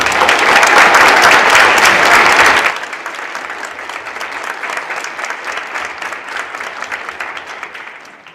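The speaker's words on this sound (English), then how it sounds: "Please give them a round of applause." Loud audience applause at a high school band concert, a dense wash of clapping that drops sharply after about two and a half seconds to a lighter, steady patter before fading out.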